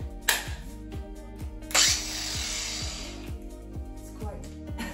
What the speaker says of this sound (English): This is another Ryobi angle grinder.